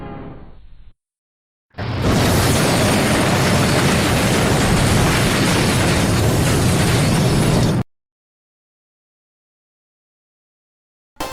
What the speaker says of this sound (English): Why did the logo explode?